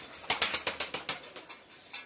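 Rapid, rhythmic wing flaps of a tumbler pigeon beat close by, a quick series of about a dozen claps that gradually fade.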